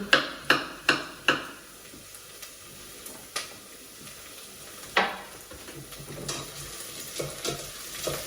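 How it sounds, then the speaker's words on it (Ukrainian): Chopped onion frying in a pan for a pumpkin cream soup: a steady soft sizzle runs throughout, with a quick series of sharp utensil clacks near the start and a few scattered taps later. "Підсмажилась цибулька наша."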